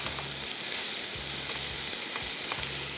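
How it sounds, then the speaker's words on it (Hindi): Onions fry in hot oil, a constant bright sizzle with light stirring scrapes repeating every second or so, close and without talk. "तो सबसे पहला काम प्याज की फ्राइंग।"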